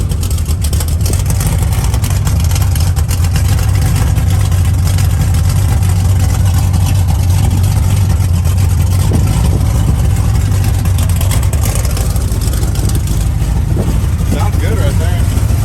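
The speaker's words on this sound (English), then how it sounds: "Motor's real quiet." A 1981 Chevrolet C-10 pickup's engine runs at a quiet, steady idle, a continuous low rumble heard close by and unchanging throughout.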